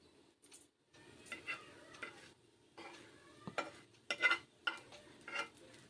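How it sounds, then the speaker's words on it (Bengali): Kalai dal (urad) boras shallow-frying in a little oil over low heat and being turned, with a soft, faint sizzle broken by intermittent clinks and scrapes of a utensil against the pan. "উল্টে পাল্টে বড়াগুলোকে ভেজে নিচ্ছি।"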